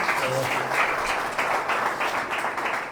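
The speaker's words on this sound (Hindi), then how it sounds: "हम ममता बहन के लिए प्रार्थना तालियां बजाएंगे।" A congregation claps together at a Sunday evening church prayer meeting, producing steady, dense applause that continues evenly without talking.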